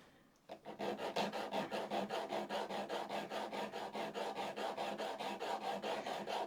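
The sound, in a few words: sharpening cross grain nicker on 240 grit diamond stone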